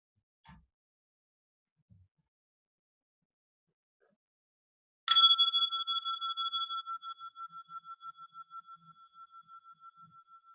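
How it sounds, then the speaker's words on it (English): A single clear strike of a mindfulness bell rings out in near silence, its bright tone lingering and slowly fading with a gentle pulsing shimmer over several seconds. "I'm just going to ring a bell to begin."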